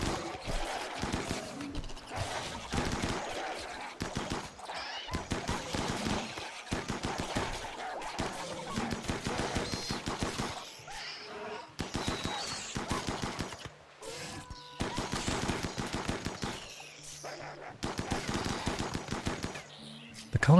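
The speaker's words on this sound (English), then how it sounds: "As soon as the insects broke the surface, they opened fire." Rapid automatic gunfire from colonists shooting emerging insects in the video game RimWorld, dense bursts of shots rattling almost continuously with brief pauses between volleys.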